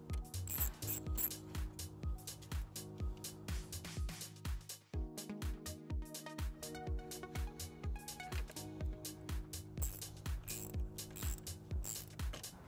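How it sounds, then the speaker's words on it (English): A 10 millimeter socket ratchet loosening a post on a 2018 Chevrolet Malibu during trailer wiring work, giving steady rapid pawl clicks close up with a brief pause midway. "We're gonna go ahead and remove that with a 10 millimeter socket."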